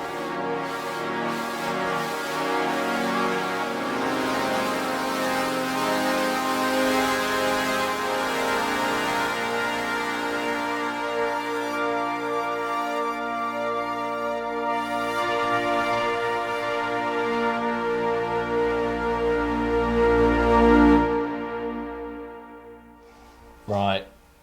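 Yamaha Montage M8X synthesizer using its AN-X analog-modelling engine plays sustained, richly layered chords that swell and shift, ending with a brief thump; no voices over it.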